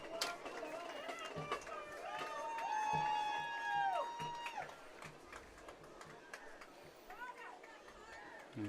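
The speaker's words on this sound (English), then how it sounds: "The crowd really getting into it now." Crowd at the Plainville versus Smith Center homecoming football game swells into a long, rising cheer near the goal line, heard fairly far off beneath a commentator's ongoing talk.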